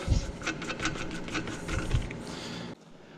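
A mechanic spins the axle nut off a Packard rear brake drum, giving dense rubbing, rasping metal and tool noise with a few heavier knocks. The sound drops suddenly near the end.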